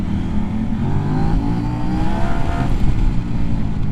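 A Kove 800X GT motorcycle engine revs loudly and close, a dense, throbbing exhaust note that swells and surges over a few seconds without any talk.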